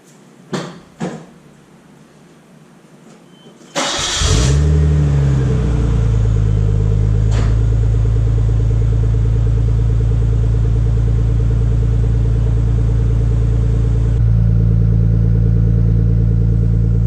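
A Nissan Skyline engine cranks and catches after a couple of door or cabin clunks, then settles into a loud, close, steady idle with a deep low rumble that rises slightly near the end.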